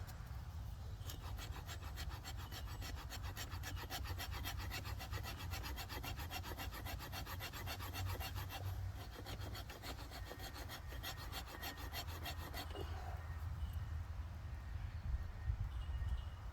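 The spine of an ESEE 6 knife is scraped in quick, rhythmic strokes, giving a fairly quiet, steady rasping that stops near the end, leaving low background noise.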